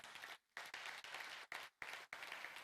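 A congregation claps in loud bursts of applause broken by several brief silences, the clapping resuming each time.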